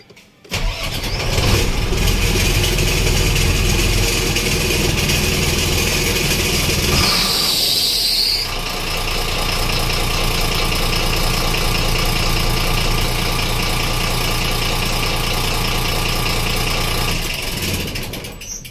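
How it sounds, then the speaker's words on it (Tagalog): A car engine cranks and starts, then settles into a loud, steady idle close by that runs unbroken for well over ten seconds, with no talking. "So paandarin ko po yung makina."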